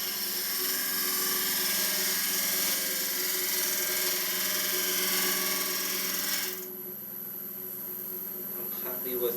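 Freshly diamond-sharpened woodturning gouge making a shearing cut on a spinning calabash bowl, a loud steady high whine and hiss from the lathe and tool that drops in level partway through.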